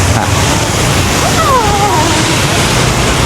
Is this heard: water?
yes